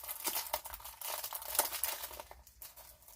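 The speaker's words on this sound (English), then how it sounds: "I'm not afraid to cut packaging." Plastic packaging being cut, with close, quiet crinkling and snipping in irregular bursts that fade toward the end.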